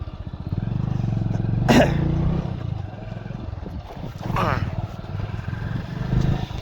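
A motorcycle rides along a rough village road, its engine a steady close drone throughout with a couple of louder surges. People talk over it.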